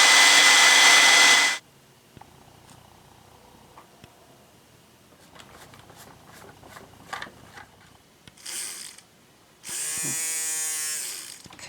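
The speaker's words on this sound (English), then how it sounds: "front motor seems to be working" The small electric motor of an old toy robot whirs in loud, buzzing bursts at the start and end, with quieter clicks and rattles of handling between them.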